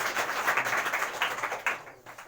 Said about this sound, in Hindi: अभी मेरे लिए ताली बजा दो।